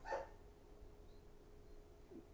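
A single short dog bark right at the start, fairly faint, followed by quiet background with a faint low hum.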